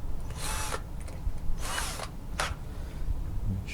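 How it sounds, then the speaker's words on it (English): A power drill whirs in three short bursts, biting into hard stucco, with quiet pauses between each run. "So I'm going to put up my drill bit,"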